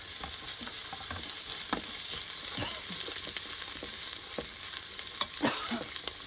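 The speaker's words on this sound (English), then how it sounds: "add in my curry leaves as well, and let those stir fry up" Garlic, ginger, chili and curry leaves stir-frying for Indian toor dal, a soft constant sizzle broken by repeated scraping strokes of a spoon against the pot.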